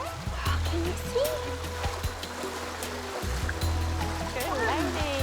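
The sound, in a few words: river water as people wade through it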